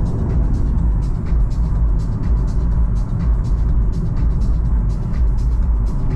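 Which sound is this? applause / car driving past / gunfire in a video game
car driving past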